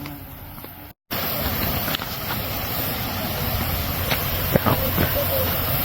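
Hotnitsa waterfall in Bulgaria roars as a steady, loud wash of rushing water, with a brief dropout near the start and a spoken word over it.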